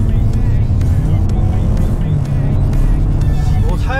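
A Kia Sorento 2.5 turbo gasoline SUV accelerating hard, with a loud, steady engine roar and road noise building continuously throughout, heard from inside the cabin.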